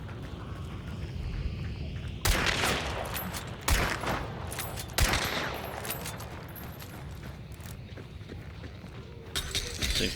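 Bursts of gunfire in a zombie-horde survival video game event, with sharp loud shots punctuating a dense, continuous background of game noise over ten seconds.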